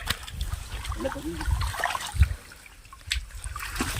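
Small fish released back into the water at a village fishing spot set off a few soft, close splashes and trickles, while a voice speaks faintly nearby.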